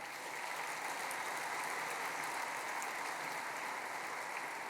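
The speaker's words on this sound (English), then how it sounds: "Please give them a round of applause" Sustained applause from a large dinner audience of more than a thousand people at an Edmonton leaders' dinner, a steady dense wash of clapping throughout with no talking.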